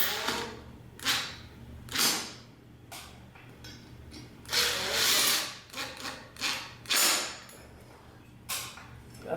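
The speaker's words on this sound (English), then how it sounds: "Screw these in. You don't want to make them too tight because it's concrete." Bolts are driven into a concrete ceiling while a ceiling fan is installed, producing irregular short whirring bursts of a driver with quieter gaps between them.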